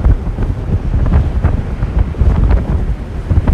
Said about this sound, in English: you get an idea of how windy it is now. You got the waves crashing on that ship right there